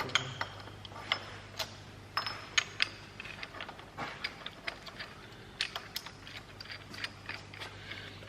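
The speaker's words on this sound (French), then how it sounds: "Le cliquet." A ratchet wrench clicks on the bolts of a big 4.2 V8 engine, with irregular bursts of sharp ticking and short runs of clicks over a steady low hum, close and moderately loud.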